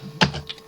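A single keystroke on a computer keyboard, a sharp near click followed by a couple of lighter key taps, in a quiet room.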